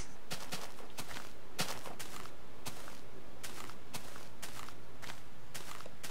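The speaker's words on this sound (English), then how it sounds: "Why do I still hear footsteps?" Footsteps in Minecraft tread in a steady rhythmic series of crisp, close steps over a constant background hum, with no talking.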